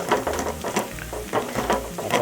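Beef sizzles steadily while frying in a pan for beef pickle, with continuous crackling and occasional stirring scrapes, close and fairly loud with no talk.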